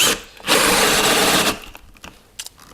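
A Bosch GSR 12V-35 Professional cordless drill-driver in second gear drills for about a second in one loud, close, whining burst, followed by quieter knocks and handling noises.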